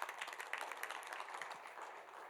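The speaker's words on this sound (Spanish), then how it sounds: "Le das aplauso fuerte" A church congregation applauds during a Spanish-language worship service, a soft, scattered patter of many clapping hands that trails off over about two seconds, heard from some distance.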